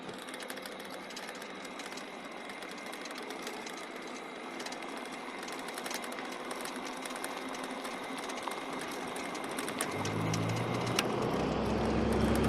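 An EGO battery-powered electric bike motor runs under throttle with a steady mechanical whine and hum that holds level, then grows louder and rougher near the end as the bike picks up speed, with no talking.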